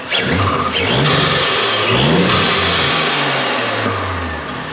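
An Audi S5 engine with a new high-flow intake and turbo pipe revs loudly up and down several times, a throaty roar with rising and falling pitch, close by, before settling.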